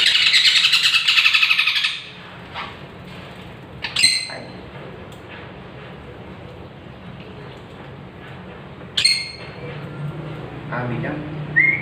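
A pet parrot chirps loudly near the start of free flight training outdoors, then gives a few sharp calls later amid soft background noise.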